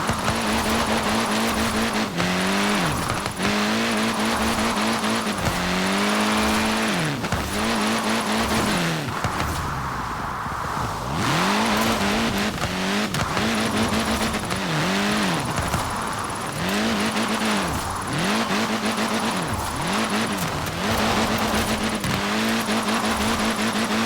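A car drifts across mixed road surfaces in Forza Horizon 4, its engine revving and dropping in steady repeated swells, with a tire squeal smeared through the loud, continuous drive.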